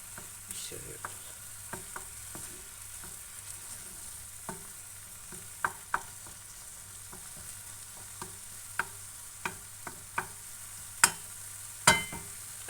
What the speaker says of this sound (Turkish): İyice karıştıracağım yumurtamı.